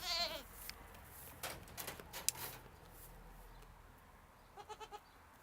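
Goats bleat in the background, a few faint calls near the start and a short burst of bleats near the end, set against a quiet room with no talking.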